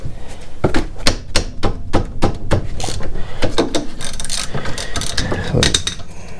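Rapid clicking of a ratchet and socket working the oil drain bolt beneath a Chevrolet Malibu, a close, fast series of sharp mechanical ticks with some background noise and no talk.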